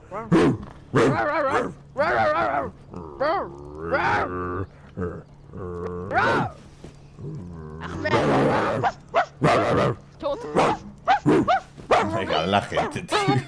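Players in Rust voice chat imitating a rabid dog with a loud string of barks, yelps and howls, interleaved with mooing-like wails and talk.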